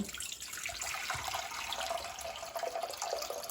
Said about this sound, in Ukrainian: Тепер ми цю воду зливаємо знову в каструльку.